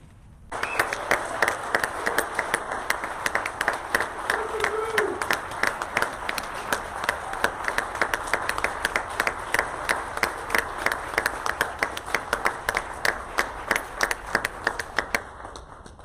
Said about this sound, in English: turn to face the audience, and receive collective applause